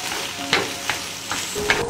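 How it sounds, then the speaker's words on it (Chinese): Beef and noodles with sauce being stir-fried in a wok, a steady sizzle broken by four sharp scrapes and tosses about every third of a second to half second, close and fairly loud with no talking. "加入炒好的牛肉，铺上面条，淋上调好的酱汁，翻炒均匀。"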